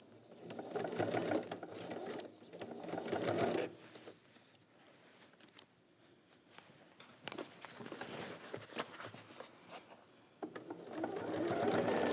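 A sewing machine stitches lined curtains in several runs of steady, close mechanical whirring, with quieter pauses between them where fabric is shifted and handled.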